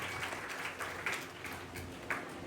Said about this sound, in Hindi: आप लोग तालियों की गड़गड़ाहट से माननीय अतिथि का स्वागत भी करते रहेंगे